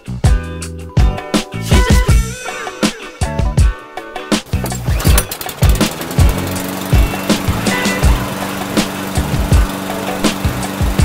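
Small lawn mower engine roaring to life after a clogged air filter, with a loud rough start and then a steady close running drone marked by uneven popping, and no talking.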